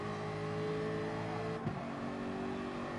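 Race car engine in a racing video game grand prix, a steady close drone with sustained harmonics as the car runs in third gear through a final corner in slipstream on heavy fuel, with a brief pitch shift midway.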